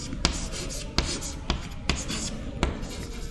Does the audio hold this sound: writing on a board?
yes